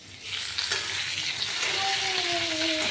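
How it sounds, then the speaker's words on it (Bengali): Potatoes fry in a pan with a loud, steady sizzle that starts abruptly and holds evenly, close and alone without voices. "আলুটা ভাজা বসিয়ে দিলাম।"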